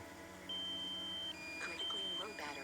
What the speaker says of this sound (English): So now you hear the beeping is double time.